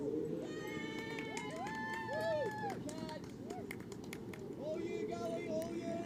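Crowd cheering and calling at a local cricket match in Sydney, a steady mid-distance roar of voices with whoops and shouts rising and falling over several seconds.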